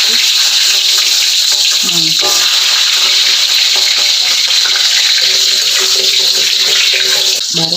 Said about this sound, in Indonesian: Nah, baru sekarang kita goreng bumbunya ya. Kencur, bawang merah, bawang putih.